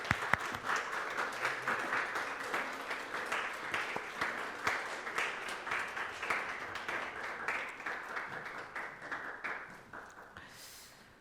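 Church congregation applauding to send off a member during Sunday worship, sustained rhythmic clapping from a crowd that gradually thins and fades toward the end.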